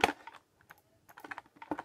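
Computer keyboard keys and mouse buttons clicking up close during Minecraft play, coming in irregular bursts of quick taps separated by brief pauses, with no talking.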